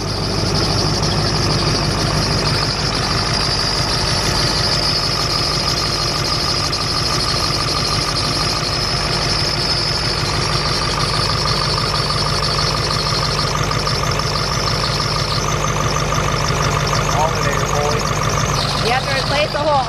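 A lifted Ford F-350 dually diesel idles steadily and close by, with a steady high chirp from a belt, likely tied to a worn alternator bearing, running continuously through the whole stretch.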